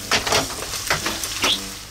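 Pork meat miso being stir-fried in a pan until the moisture cooks off, short bursts of sizzling and scraping in quick succession, close and fairly loud.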